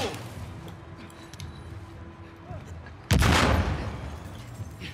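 Explosion in the video game The Last of Us Part II: a sudden loud blast bursts out midway and decays over a second or two, over a busy background of game sounds.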